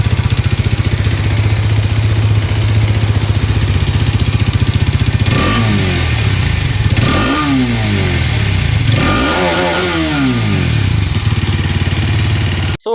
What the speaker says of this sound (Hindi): अभी थोड़ा सा रेव करता हूँ।